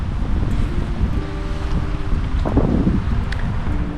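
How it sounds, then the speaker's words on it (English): Strong wind buffets the microphone in a steady low roar, with faint splashes of water now and then, while paddling a solo canoe on Little Tom Wallace lake. "It's quite windy."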